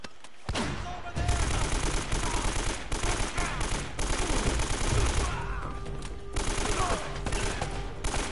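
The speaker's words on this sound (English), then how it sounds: "Grenade launcher." Grenade launcher fire in Uncharted on PS4 comes through as a loud, dense stretch of combat blasts and gunfire that rumbles for several seconds with only short breaks.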